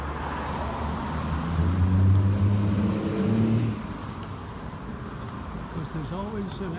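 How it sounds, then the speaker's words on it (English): A car engine roars past in a town street, a loud low rumble that swells over a few seconds and then drops away, leaving steady outdoor traffic noise. "asshole driving, speeding through town"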